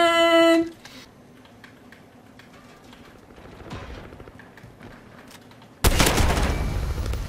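Gunfire in a Call of Duty scrim match: an initial sharp burst, then a stretch of faint scattered in-game shots and ambience, ending in a loud sustained volley of rapid fire.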